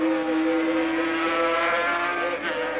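Several 500cc Grand Prix racing motorcycles scream past at high speed on the Silverstone circuit in 1981, a sustained, loud, high-revving two-stroke wail that climbs through the gears with a brief dip near the end.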